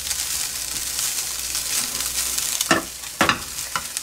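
Chili peppers stir-fry in a hot pan as the base for mapo tofu, giving a steady close sizzle with a few louder scraping stirs near the end, and no talking.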